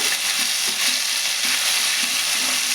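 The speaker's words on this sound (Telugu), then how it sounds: "నేను ఉల్లిపాయ ముక్కలు వేస్తున్నాను, ఉల్లిగడ్డ ముక్కలు వేసాను." Onion pieces frying in oil with ginger-garlic paste, for a ridge gourd and egg curry, crackle in a steady close sizzle, with a few soft stirring scrapes and no talk.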